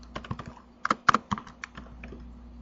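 Quick, uneven keystrokes clatter on a computer keyboard as commands are entered for Oracle database work, with short bursts and brief pauses, close and fairly quiet.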